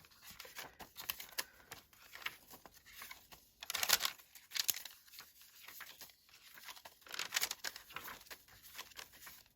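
Paper pages are folded for a mini junk journal, producing close, intermittent crinkling and rustling bursts with quiet gaps between them.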